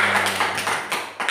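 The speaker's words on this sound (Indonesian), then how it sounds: "Oke, tepuk tangan dulu." Students in a classroom clap their hands, producing a few loose, uneven claps that ring out as separate sharp taps over a low background hum.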